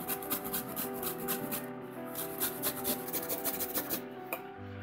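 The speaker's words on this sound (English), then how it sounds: "I have taken here half cabbage, which I will finely grate." Half a cabbage is finely grated by hand, making a steady close rhythmic rasping as it is rubbed repeatedly against the grater, with soft music underneath.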